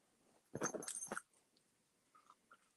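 A miniature dachshund crunches a treat up close: a loud, rapid burst of crisp chewing that lasts about a second, followed by near silence with faint small clicks.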